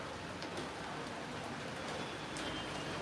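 Steady rain falls through the midnight darkness in Virar's Global City, a dense, even hiss of drops on surfaces that holds constant throughout with no voices.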